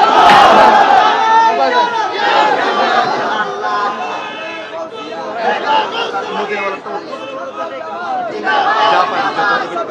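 Large crowd at a Bengali Islamic religious gathering shouting takbir in unison: loud, sustained massed voices calling out together, close and energetic, filling the whole stretch.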